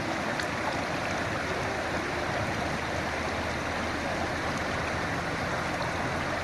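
Water rushes steadily while a cleaned rainbow trout is rinsed outdoors at a cooking camp. The broad, even flow sounds like running stream water, stays loud and constant throughout, and no voices are heard.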